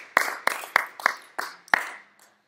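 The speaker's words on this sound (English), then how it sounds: "Come on, enthusiastic applause." Six or so sharp, separate hand claps from a small group, a brisk uneven burst that thins out and fades after about two seconds, fairly close and alone without talk.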